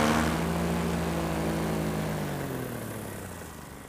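A paramotor's engine and propeller drone loudly in flight over a beach, the steady buzzing tone sliding slightly lower and fading as it moves away.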